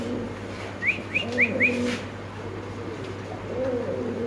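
White Bombay fancy pigeons call from a cage at a large pigeon farm: a short run of rising calls and low coos, fairly near, over a steady background hum.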